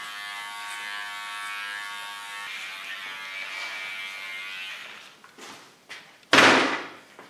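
A small electric hair clipper buzzes steadily and close while cutting short hair, then gives way to a few handling clunks and one loud knock near the end.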